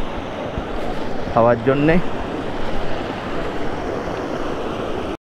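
Mountain stream water in a Himalayan valley in Jammu and Kashmir, a steady broadband rush heard close while a bottle is filled, with someone speaking briefly over it.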